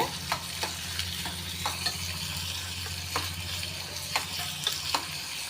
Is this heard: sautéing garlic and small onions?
yes